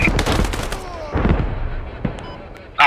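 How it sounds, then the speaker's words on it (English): In the military shooter Squad, gunfire and rockets slam into a house: bursts of shots and heavy impacts crackle close by, then fade to scattered reports before a sharp loud hit at the end. "they're shooting the house. They're trying to kill us with the rockets"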